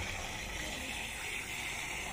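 Water gushing hard from a turned tap for watering plants, a steady loud rushing stream that continues without a break, close by.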